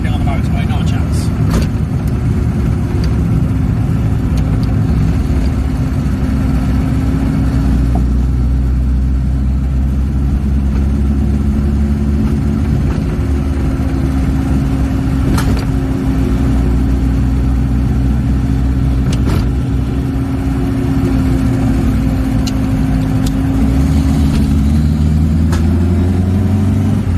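Reliant Robin three-wheeler car driving through a village, its engine a steady, loud mid-pitched drone heard from inside the cabin for the whole stretch, with slight pitch changes as it speeds up and slows.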